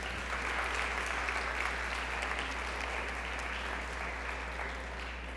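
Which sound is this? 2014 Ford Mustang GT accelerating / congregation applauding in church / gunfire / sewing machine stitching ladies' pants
congregation applauding in church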